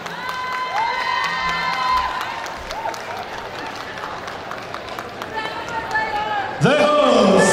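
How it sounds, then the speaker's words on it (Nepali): An audience at a Gurung community party in the UK claps and cheers under tonal vocal sounds, with a burst of louder cheering near the end. "प्लिज यतिखेर मिठो ताली बुझिनुहोस्"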